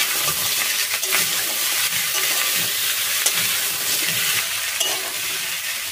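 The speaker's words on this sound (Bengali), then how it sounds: "এবার সব কিছু ভালো করে ভেজে নেব।" Vegetables for shukto fry in a pan with a continuous bright sizzle, while a utensil stirs and scrapes them at close range, no voices present.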